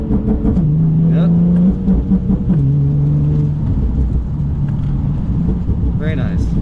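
A Nissan 370Z NISMO engine revs hard and drops between flat-foot shifts, a loud close rumbling tone that rises and steps down in pitch, with voices talking over it.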